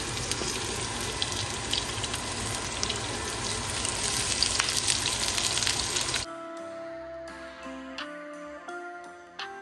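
Chopped onion dropped into hot oil in a pan sizzles loudly and steadily for several seconds, then cuts off, leaving quiet kitchen clinks and light rattling.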